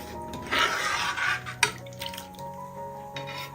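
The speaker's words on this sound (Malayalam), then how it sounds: "അപ്പോൾ പാലും കൂടി ഒഴിച്ചു കൊടുത്ത് ഒന്ന് ഇളക്കി കൊടുക്കാം." A spoon stirs almond milk into a pot of kheer, giving scraping and clinking of metal against the pot with a brief sharper knock, close and moderately loud, with no talking.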